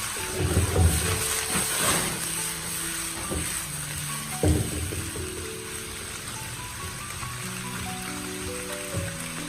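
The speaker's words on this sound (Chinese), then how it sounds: "再次翻炒均匀，把腐竹表面的水分炒干，炒出香味。" Tofu skin and pork belly being stir-fried in a wok, a continuous sizzle with several scraping and tossing knocks near the start, no voices.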